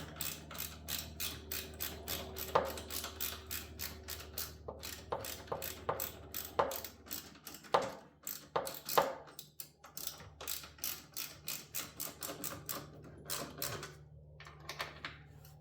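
A ratchet socket wrench clicks in quick bursts of rapid pawl ticks while working on a motor mount (upper torque rod) of a 2016+ Volvo XC90 or 2021+ XC60, close and fairly faint, with short pauses between strokes.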